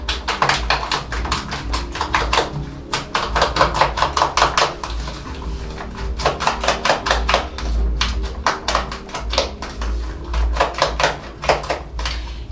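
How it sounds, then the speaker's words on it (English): Eggs are beaten briskly in a bowl with a fork or whisk for chips mayai, making a fast, steady run of close clicking taps that pauses briefly now and then. "give your eggs a thorough beating, okay? Mix everything together like so."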